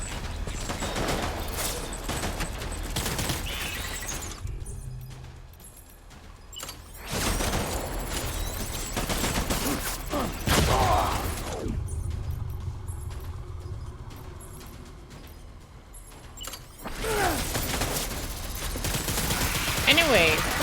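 Gunfire in Death Stranding erupts in loud bursts that start and stop, several dense volleys broken by short quieter gaps, with some talk mixed in.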